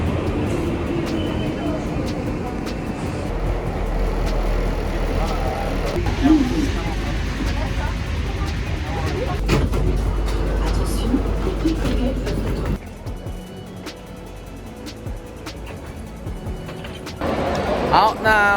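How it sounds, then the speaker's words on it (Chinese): A Paris metro train carries riders toward the Louvre with a steady, loud rumble and rattle throughout, easing somewhat near the end, while people talk over it. "那我们现在打算坐个他们的地铁过去"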